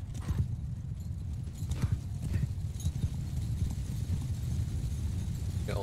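Rapid, continuous hoofbeats of galloping cavalry horses in Mount & Blade II: Bannerlord, loud and close, with a whinny mixed into the busy clatter.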